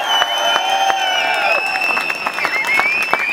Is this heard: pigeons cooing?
no